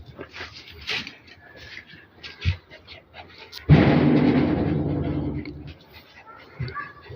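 Household dogs barking and whimpering nearby in bursts, with one loud sustained bark-like outburst midway, mixed with background voices.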